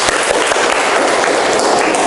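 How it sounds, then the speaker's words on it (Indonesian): Classmates in a school lesson on Hindu-Buddhist kingdoms clap together, a dense steady patter of many hands that carries on for the full two seconds at a loud, even level. "tepuk tangan"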